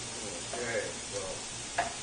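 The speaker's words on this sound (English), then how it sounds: "Just blending it all in and browning up the meat a little bit" Ground meat browning with onions in a pan for chili as it is stirred, a soft continuous sizzle broken by a few brief scraping strokes.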